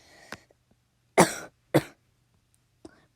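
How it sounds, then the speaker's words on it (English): A person with allergies coughs: one small cough, then two loud, sharp coughs close together, and a faint cough near the end, with quiet pauses between them. "Pardon my cough."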